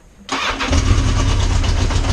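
A motorcycle fitted with a Motogadget M-Unit fires up from the starter button after brief quiet, catching abruptly and settling into a loud, close, steady idle.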